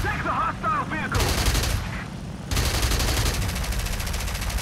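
Rapid automatic cannon fire from an Fw-190 fighter in the aerial combat game War Thunder, dense continuous bursts with a brief pause, loud and close, alongside engine roar.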